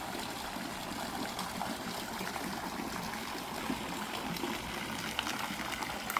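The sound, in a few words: hot tub water bubbling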